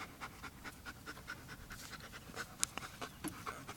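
A dog pants quickly and rhythmically, with short breaths repeating steadily, close but fairly quiet, plus a couple of small clicks.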